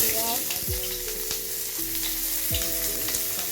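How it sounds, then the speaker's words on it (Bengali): Onion, tomato and garlic frying in oil in a karahi, a steady close sizzle and crackle with scraping stirring and clinking of a utensil against the pan. "টমেটো রসুন এগুলোকে হালকা করে আমি ভেজে নেব"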